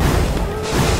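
An explosion in a video game comes as a brief, loud, crashing burst that fills the short moment with dense, rough noise.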